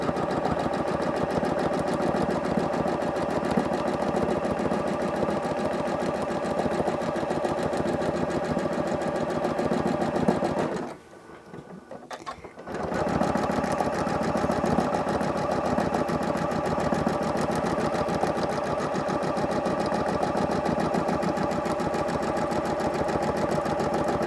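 A sewing machine hums and chatters steadily during free motion quilting, loud and close, with a brief pause of near quiet in the middle before the stitching resumes at the same pace.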